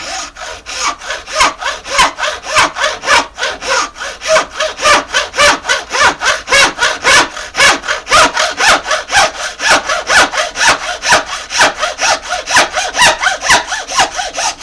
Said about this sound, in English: I'm just using a common hacksaw here.